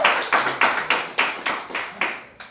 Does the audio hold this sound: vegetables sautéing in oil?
no